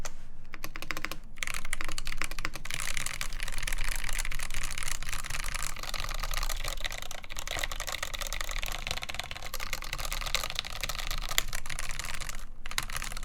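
Continuous mechanical keyboard typing on a KBD8X MII prototype build, a dense, steady, rattly clatter of keystrokes that runs close and loud for the whole stretch with no talking.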